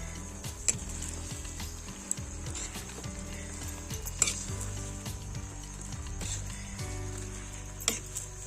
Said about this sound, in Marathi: असं व्यवस्थित ते ढवळून घ्यायचं